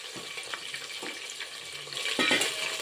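Potato curry being stirred in hot oil in a pan: a spoon scrapes through it in regular strokes about every half second over a steady frying sizzle. The sound is close and fairly soft, and no one speaks.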